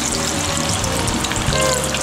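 Fish gills deep frying in peanut oil in a cast iron Lodge deep fryer, a loud, steady, dense sizzle and bubbling with no pause.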